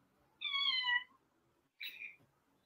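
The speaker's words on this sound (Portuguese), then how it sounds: "E chegou um gatinho" A cat meows twice, a longer drawn-out meow followed by a shorter one, close and clear against quiet surroundings.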